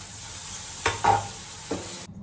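Potatoes frying in a pan with spices and dal added, a soft steady sizzle broken by a few scraping stirs before it cuts off abruptly.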